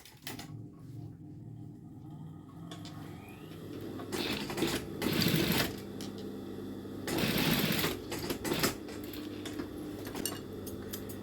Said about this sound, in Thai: ได้ยางมาแล้วเราก็จะเอายางมาย้ำนะคะย้ำใส่ตะเข็บข้างแบบนี้เลย